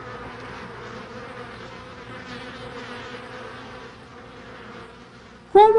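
A steady, dense buzzing of many bees hums continuously, ending with a sudden louder, higher whine close by.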